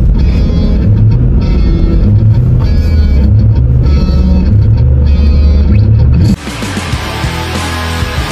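A car drives along with a steady, loud low engine rumble and road noise, shifting abruptly to a slightly thinner, brighter running sound toward the end; no one speaks.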